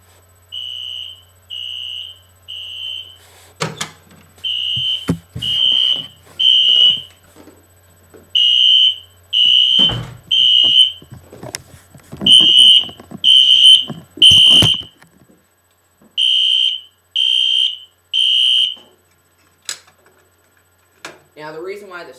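A Wheelock NS fire alarm horn/strobe sounds in loud, evenly spaced horn blasts, heard from outside, with occasional handling knocks and brief noises between blasts.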